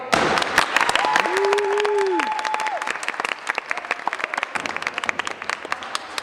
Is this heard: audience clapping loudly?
yes